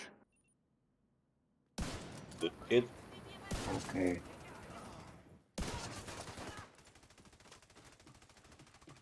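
Bursts of rapid gunfire and scattered shots ring out in the video game The Division 2, with short spoken remarks mixed in and sudden cuts to near silence.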